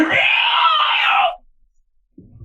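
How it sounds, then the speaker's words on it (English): A swamp spirit's long, loud keening screech as a sound effect, a shrill wailing cry lasting over a second and cutting off abruptly, followed by silence and a faint low rumble. "with one loud, keening screech"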